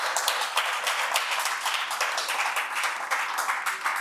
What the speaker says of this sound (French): Si vous applaudissez,